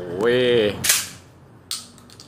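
A Mossberg Mariner 500 shotgun fires two sharp loud reports outdoors, with a brief shout just before the first.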